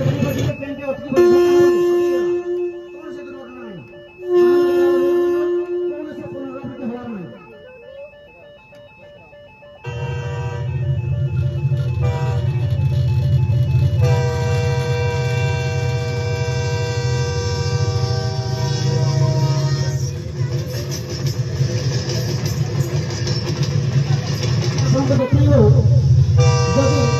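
A train running with its horn sounding, long sustained tonal blasts over a steady heavy rumble, loud and close, the horn swelling and changing pitch as it continues.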